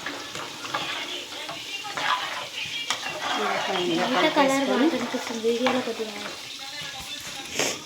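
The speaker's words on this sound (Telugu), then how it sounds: "వేసేసుకొని ఇలా కలుపుకోవాలి ఒకసారి" Fish curry being stirred in a pan, with a steady sizzle and scraping stir strokes, close by, while someone talks over it.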